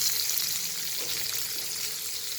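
Chopped onion, with a little cumin and garlic, sautéing in a pan for a North Karnataka style ivy gourd curry: a steady, close, even sizzle and hiss that runs unbroken throughout, with no talking.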